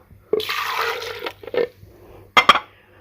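Milk poured into a glass for a strawberry and dry fruit milkshake: a close, splashing pour lasting about a second, a few shorter trickles, then two sharp clinks of glass.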